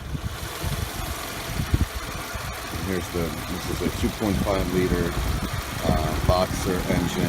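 A 2017 Subaru Legacy Sport 2.5i's 2.5-liter boxer engine with CVT idles steadily, giving a low, even rumble while someone talks over it close by.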